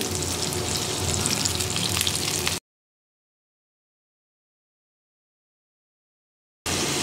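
A splash of water hits onions and green chilies frying in a pan, giving a strong, even sizzle that suddenly cuts to silence for several seconds before the frying resumes.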